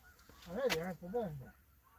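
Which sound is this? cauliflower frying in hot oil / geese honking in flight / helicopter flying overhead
geese honking in flight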